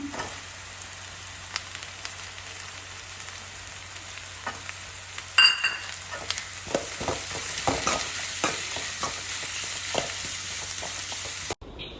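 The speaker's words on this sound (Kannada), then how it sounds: "ಆನಿಯನ್ ರೆಡ್ ಆಗೋ ತನಕ ಫ್ರೈ ಮಾಡಬೇಕು" Onion, ginger and capsicum fry in a pan for gobi manchurian, with a steady close sizzle and occasional scraping stirs and clinks, no talking.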